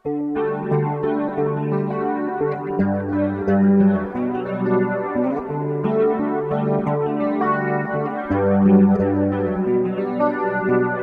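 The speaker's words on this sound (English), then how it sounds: "Super cool, lush, spacious reverb sound, 4-track chorus delay preset." Clean electric guitar chords with a lush chorus and delay effect, notes shimmering and echoing into a wide, spacious wash, played alone without talk.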